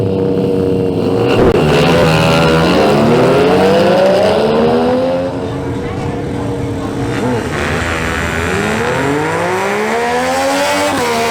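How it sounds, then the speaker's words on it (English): An AKT LS 150 motorcycle makes a drag racing run, its engine loud and close as it revs up through repeated gear changes and rises in pitch. "Jesus Castillo makes his run on his AKT LS 150."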